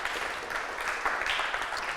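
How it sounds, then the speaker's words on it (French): Faint applause from an audience at a French-language event, a brief stretch of soft, scattered clapping heard at a distance with no voices. "sous vos applaudissements"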